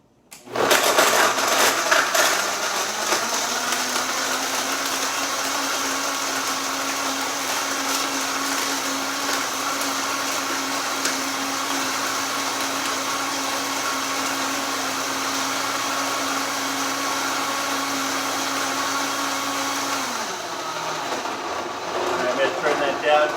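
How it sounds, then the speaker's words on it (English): A kitchen blender runs steadily for about twenty seconds, grinding hard through ice cubes for a pumpkin pie granola smoothie, a loud whining motor with a constant pitch and rattling churn, then cutting off near the end. "Probably hear the blender still trying to get through the ice cubes."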